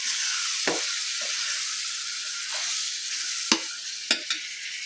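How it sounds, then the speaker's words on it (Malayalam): Meat sizzling steadily in a pan, a constant close frying hiss with a few sharp clinks and scrapes of stirring, no voices. "ഇറച്ചി ഇവിടെ വെന്ത് കൊണ്ടിരിക്കുന്നുണ്ട്."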